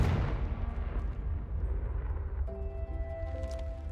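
A Confringo spell explosion in the video game Hogwarts Legacy bursts with a loud, deep boom at the start, then rumbles and fades over several seconds as faint tones ring through the tail.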